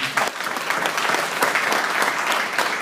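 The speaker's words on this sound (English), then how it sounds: "Let's clap it up for Miriam." An audience at a high school girls' basketball banquet claps for a senior, giving brisk, even applause of moderate loudness with a few sharper individual claps standing out and no talk over it.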